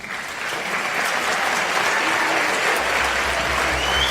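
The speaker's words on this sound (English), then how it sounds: "give yourself a round of applause, please." Parents in the audience at a junior high school spring concert break into loud, sustained applause, a thick crowd of clapping hands that swells and holds steady to the end.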